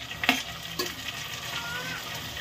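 Onions and tomatoes fry in a pan for a mutton keema pulao, a soft continuous sizzle with a few sharper crackles and the scrape of a spoon stirring, fairly quiet and close.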